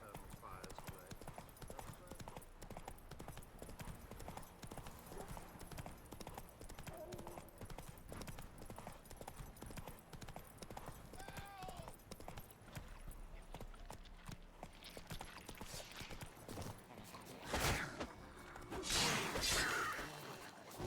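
Horse hooves clip-clop steadily through a Witcher 3 video game scene, a regular trotting rhythm running under game voices and ambient music, with a louder burst of effects near the end.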